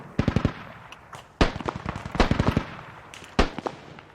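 Gunfire in the military shooter game Squad: bursts of rapid shots and single loud reports crack out at irregular intervals, some close and sharp, others slightly more distant.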